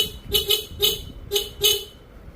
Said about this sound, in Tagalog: Kinabit ko na nga pala tong busina, pero hindi ko sigurado kung gumagana to, kaya tinesting ko muna.